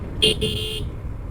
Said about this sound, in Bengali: বড় গাড়িগুলো মরে আসার আগে হর্ন দেয়